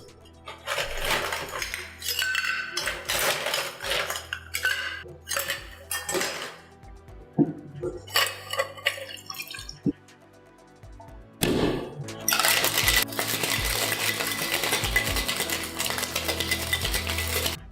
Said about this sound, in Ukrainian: Додаю до шейкера та шейкою.